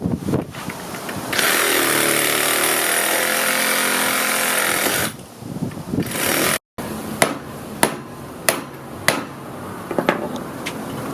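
A power tool cuts at a metal subframe bushing on a Nissan 350Z with a loud, sustained whining grind for several seconds. It stops abruptly and is followed by quieter rattles and a series of sharp metallic knocks.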